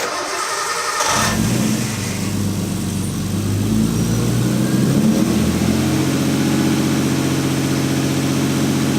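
A Nissan RB20 engine with a freshly repaired throttle body cranks briefly, catches and settles into a steady, loud idle with a slightly rising then even hum, heard close with no talk.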